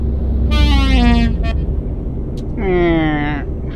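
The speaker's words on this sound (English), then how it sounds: "just love blasting those air horns." Two long blasts of a truck air horn in Euro Truck Simulator 2 multiplayer, the first about a second long, then a brief pause and a second sustained blast, loud and harmonic-rich over steady engine rumble.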